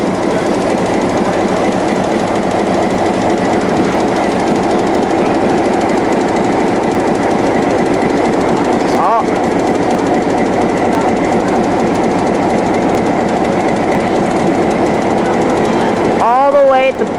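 A Cape Cod Central Railroad train hauled by an RS3 diesel locomotive rumbles on continuously, loud and steady, with wheel clatter and a droning engine under intermittent talking, and a brief squeal near the end.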